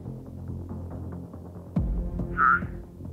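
A low throbbing croak from a turtle frog rises against a dim hum of background noise, brief and moderately close.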